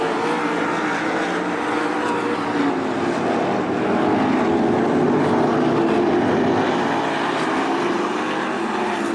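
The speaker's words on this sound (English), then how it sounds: "Logan Monjou races to the white flag." Several 305 sprint cars race at Attica Raceway Park, a loud, steady, distant engine roar that swells slightly as the pack passes, with no talk.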